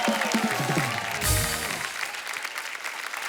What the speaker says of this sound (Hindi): जोरदार तालियां हो जाए एक बार बब्बर फैमिली के लिए